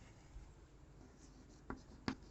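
A physics formula being written by hand, heard as two short, faint scratching strokes near the end over a quiet background hiss.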